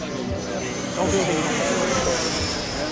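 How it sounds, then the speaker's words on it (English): A Viperjet MK2 radio-controlled jet with a 110mm ducted fan flies at an outdoor model aviation event, its loud continuous whooshing roar swelling as it passes, with people talking underneath. "Plenty of power this jet does have, as it's using a 110mm fan"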